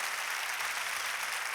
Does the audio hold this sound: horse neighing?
no